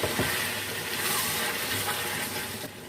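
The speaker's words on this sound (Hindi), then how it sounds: "अदरक लहसुन का हम थोड़ा सा पानी ऐड कर देते हैं 2 से 3 चम्मच" A steady wash of water pouring into a cooking pot of chicken korma, continuous and close, with no talking.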